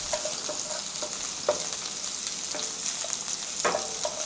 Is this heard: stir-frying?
yes